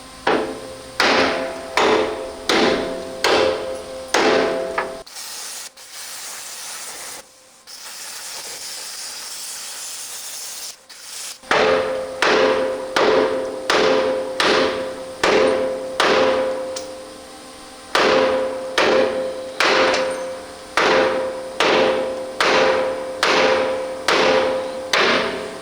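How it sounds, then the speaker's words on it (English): Steady, loud hammer blows drive bolts back through torch-melted nuts on the frame of a 1984 GMC General truck. Strikes fall in quick, regular bursts, broken by a stretch of hissing cutting torch before the pounding resumes. "beating the bolt back through what's left of the nut and the frame"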